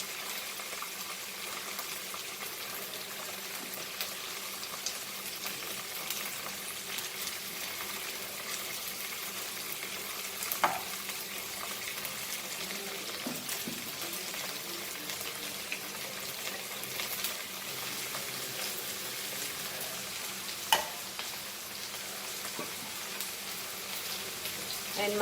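Mustard seeds sizzle in hot oil while cooking Goan pork sausages with okra, giving a soft, steady frying hiss with a couple of sharper pops.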